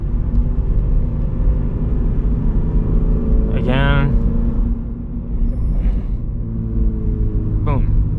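A Subaru BRZ manual car engine hums steadily while a driver talks, with brief rising revs as gears are shifted and a low constant cabin rumble underneath.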